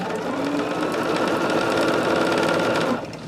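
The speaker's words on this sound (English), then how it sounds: "I hit that thread cutter again" Sewing machine running steadily up close with a dense mechanical whir, then an abrupt change near the end as the automatic thread cutter engages and the motor drops off, no speech.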